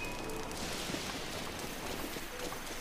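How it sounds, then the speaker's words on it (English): Steady rain hisses across an outdoor scene in The Legend of Zelda: Breath of the Wild, a dense, even wash of droplets that carries on unbroken with no voices over it. "The rain extinguishes it."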